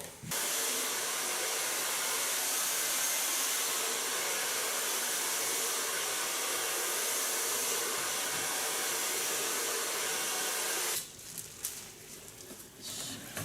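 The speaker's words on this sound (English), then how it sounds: "So now I'm going to dry her hair" A hair dryer blows in a salon for about eleven seconds, a loud, steady, close roar of rushing air that then cuts off, leaving faint handling noises.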